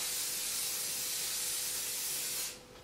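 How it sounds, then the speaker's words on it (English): A continuous spray of VO5 Ultimate Hold hairspray from an aerosol can, a steady close hiss lasting over two seconds before cutting off sharply. "I'm using the VO5 Ultimate Hold Hairspray"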